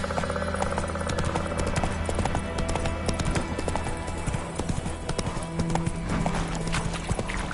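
Horse hooves clip-clop steadily in The Witcher 3, a rapid continuous trot at close range, with a whinny and low background hum underneath.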